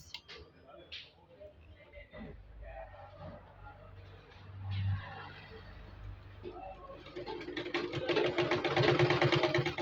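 A sewing machine stitches stretchy turban cap fabric, starting with scattered clicks and handling noises before breaking into a loud, rapid, rhythmic run of stitching near the end.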